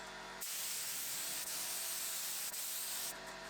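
Paint spray gun driven by an air compressor gives a steady, loud broadband hiss that starts after a short pause and runs continuously, with two brief dips where the trigger eases.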